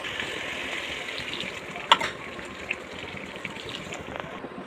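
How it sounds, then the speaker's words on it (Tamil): Water being poured from two tumblers into a pan of chicken gravy, a steady low liquid wash with a brief splash and clatter near the middle, heard alone without talk. "நல்லா கலந்து விட்டதுக்கப்புறம் நம்ம ரெண்டு டம்ளர் தண்ணி சேர்த்துக்கலாம்"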